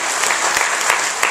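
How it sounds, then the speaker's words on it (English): Audience applauding classmates at an evening event, a dense, steady wash of many hands clapping close and loud throughout the short burst. "you can give them a little applause"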